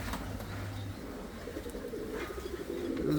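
A frillback pigeon cooing close by in a breeding loft, low soft repeated coos with a steady hum underneath and faint background bird chirps.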